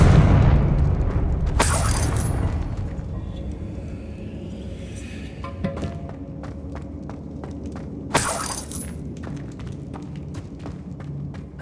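A Confringo blasting spell explodes in Hogwarts Legacy inside a witch's tomb, two sharp loud booms several seconds apart with crackling debris and rumbling ambience between them.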